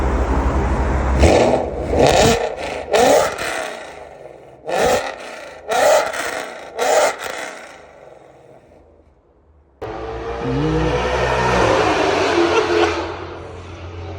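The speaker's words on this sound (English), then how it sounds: "And then I went to the 2M Fab long tube catless headers. Sounded absolutely obnoxious." A 900-plus horsepower Mustang on 2M Fab long tube catless headers revs hard in several sharp, loud, raspy bursts, each snapping back to idle, then settles into a sustained rough, throaty roar.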